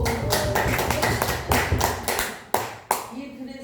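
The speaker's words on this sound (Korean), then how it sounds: "오, 박수!" An audience at a Christian cultural ministry event claps, with brisk clustered hand claps close by that thin out into a few sharp final claps, mixed with a voice.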